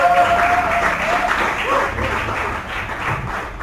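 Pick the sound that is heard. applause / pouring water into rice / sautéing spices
applause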